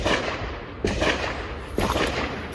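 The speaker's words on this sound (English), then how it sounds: "we've got our steel down there, shooting the 10 millimeter." Sig Legion P220 pistol in 10mm fired at steel targets, three loud sharp shots about a second apart, each with a long ringing outdoor echo.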